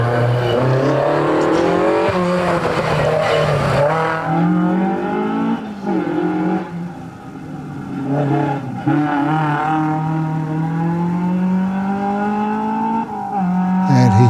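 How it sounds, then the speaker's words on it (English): Mark Povey's small Datsun race car rounds a tight hairpin at a hillclimb, engine note rising and falling loudly through the bend with brief tire squeal, then accelerating away strongly, close and continuous. "Mark Povey's little Datsun coming around the tight hairpin there"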